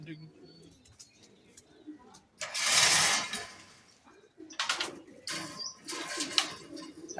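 Belgian and Dutch racing pigeons coo softly inside a loft coop, low murmuring calls mixed with a burst of wing flapping and rustling, while people talk nearby.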